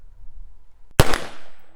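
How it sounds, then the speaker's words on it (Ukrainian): A single sharp shot from a Heckler & Koch HK243 civilian G36 rifle cracks loudly after a quiet moment, its echo trailing off over the next second in open air. "Перший постріл з Хеклера."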